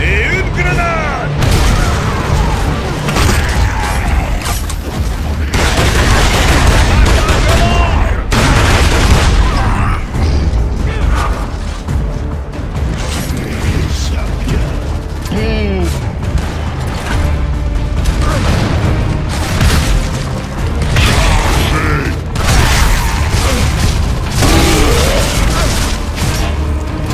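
Grenade blasts and heavy gunfire in Gears of War 3 form a loud, continuous barrage of booms and rapid shots throughout, with voices speaking in French amid the combat.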